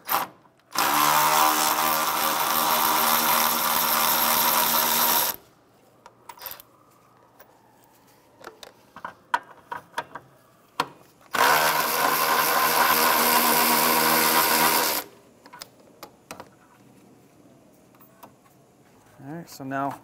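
A power tool backing out 10 mm bolts on a 2011-2016 Hyundai Elantra A/C condenser whirs loudly in two sustained bursts of about four seconds each, with clinks and handling noises between them.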